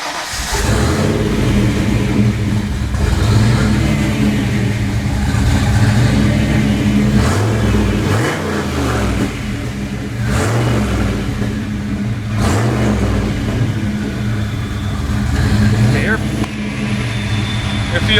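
A turbocharged Foxbody Ford Mustang engine idles loudly and close, with several revs rising and falling in turn and an uneven, rough running note throughout.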